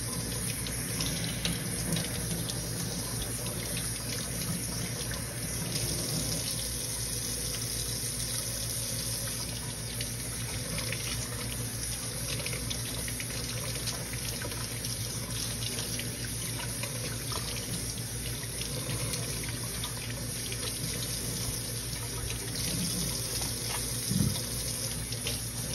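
Water runs from a tap in a continuous, even stream into a sink while fruits are being washed. The flow stays steady for the whole stretch, with a faint clink near the end and no speech.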